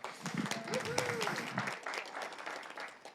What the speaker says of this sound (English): All right, well, clap for Lori.